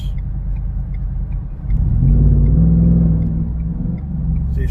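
A truck with a naturally aspirated, detuned 5.0 Mustang V8 rumbles close by, idling low, then swelling into a louder throaty rev that holds and slowly eases off.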